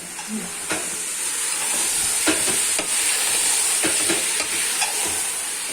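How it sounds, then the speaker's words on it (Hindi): Chonga frying in oil in a pan, a steady close sizzle and hiss with occasional stirring scrapes and clicks. "अब मैं चोंगों को भूनूंगा अच्छे से"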